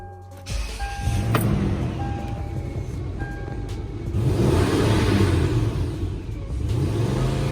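A car engine idles in place with a steady, continuous low rumble and broadband hum that holds fairly even at close range for the whole stretch, with no voices over it.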